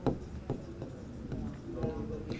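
Chalk or marker writing on a board in a classroom lecture, a run of short scratchy strokes at close range with a faint voice underneath.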